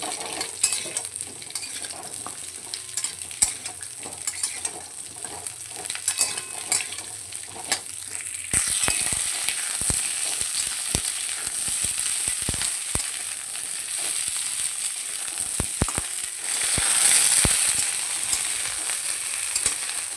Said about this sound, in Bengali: ডাঁটাগুলো তেলের মধ্যে দিয়ে একটু হালকা করে ভাজা ভাজা করে নেব।